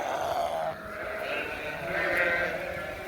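Freshly shorn sheep bleat in a barn while rain falls outside, several overlapping calls ringing out close and fairly loud over a steady background hiss.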